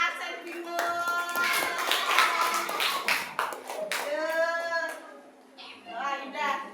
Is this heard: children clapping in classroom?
yes